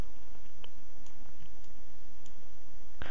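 Computer mouse clicks during desktop software work: a few sharp, close, fairly quiet taps scattered over a steady background hum, with one louder click near the end.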